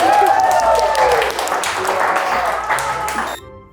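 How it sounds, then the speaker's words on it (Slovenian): Studio audience at a Slovenian talent show applauds for a contestant, a dense, loud burst of clapping over a ringing musical tone and voices that fades at the end. "En aplavz za Pijo!"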